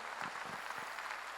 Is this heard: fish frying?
no